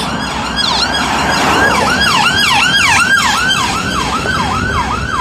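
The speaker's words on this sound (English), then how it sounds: "Oh, there goes the ambulance." An ambulance siren wails in a steady repeating up-and-down pattern, loud and close, over the rumble of road traffic.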